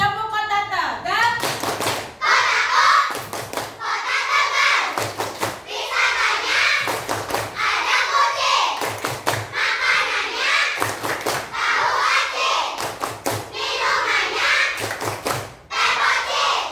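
A class of children in a primary school in Tegal doing a rhythmic clapping chant, loud repeated bursts of group claps alternating with chanted voices in a steady pattern.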